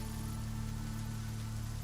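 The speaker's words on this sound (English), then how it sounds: "it starts pouring rain." Pouring rain in the video game Endless Machines, a steady dense hiss that holds evenly throughout with a low constant hum beneath it and no talking.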